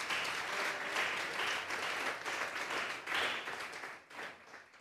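A church congregation at a Sunday service gives sustained applause, a dense wash of many hands clapping that swells and eases, then fades toward the end.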